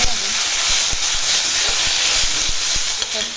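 Cinnamon, cardamom, whole cumin and homemade chili poured together into hot oil, giving a loud, steady sizzling hiss with scattered crackles and pops throughout.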